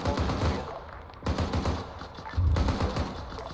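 Video game gunfire rattles in bursts of rapid automatic shots, with a heavy burst at the start, a pause near one second, then two more loud volleys of sharp repeated cracks, with no voices.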